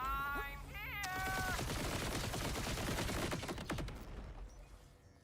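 Rapid pistol fire crackles in a looter-shooter video game, a dense string of sharp shots under layered game music and effects, fading toward the end.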